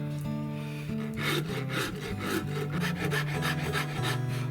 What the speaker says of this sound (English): This is actually a metal file, but it cuts a fairly smooth cut on wood.